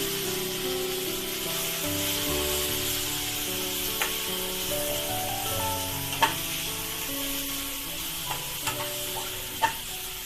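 Crushed masala and tomato fry in a pan for vegetable pulao, with a continuous sizzle under steady scraping strokes of a stirring spoon and a few sharp knocks against the pan.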